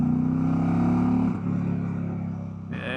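A 2025 Indian Pursuit Dark Horse motorcycle accelerates hard, its engine note loud and close as it climbs through the revs, then steps down briefly as a gear changes.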